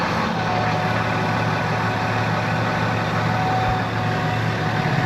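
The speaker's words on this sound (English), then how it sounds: "while tractor's warming up" A farm tractor engine idles while warming up before drilling work, a steady low diesel rumble and hum held constant and close throughout.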